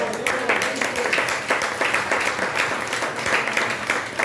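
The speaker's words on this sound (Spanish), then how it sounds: "Ese aplauso es para Cristo" A church congregation claps together in praise, a dense, steady wash of applause continuing throughout at moderate loudness.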